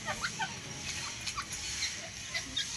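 Grey francolin (teetar) calling outdoors at a home where the birds are raised and fed, a series of short, sharp repeated calls at moderate distance over a steady background hiss.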